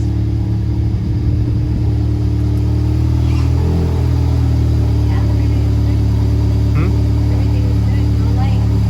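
An Audi S3 8V with freshly installed coil packs runs loud and close, its steady engine rumble rising in a few revs over the full stretch.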